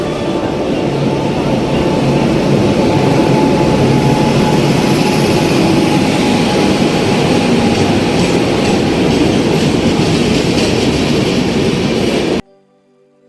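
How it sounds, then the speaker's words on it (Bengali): Train arriving on the Kolkata to Ghatshila route, a loud continuous rumble and rattle of wagons passing close by, steady throughout before cutting off abruptly at the end. "পৌঁছে গেছে আমাদের ট্রেন"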